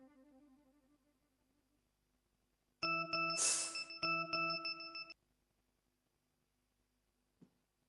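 A phone message notification chimes at night in a quiet room. The bright tone rings loud and clear for about two seconds after a faint melodic sound fades, followed by silence.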